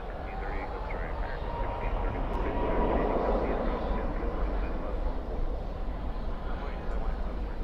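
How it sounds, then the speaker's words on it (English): A Boeing Dreamliner airliner taxis at Dallas/Fort Worth airport at night, its distant jet engines giving a steady broadband roar that stays level throughout, with people talking over it. "On the move now, that Dreamliner."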